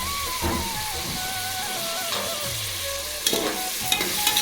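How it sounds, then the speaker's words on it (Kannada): Onion and green peas frying in a pan for vegetable pulao, a continuous close sizzle with spatula stirring and a few sharper scrapes and clinks toward the end. "ಈರುಳ್ಳಿ ಮತ್ತು ಬಟಾಣಿ ಫ್ರೈ ಆಗಲಿ"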